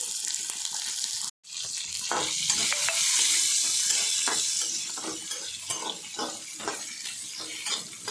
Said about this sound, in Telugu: తర్వాత ఆనియన్ కూడా వేసి వేపుకోవాలి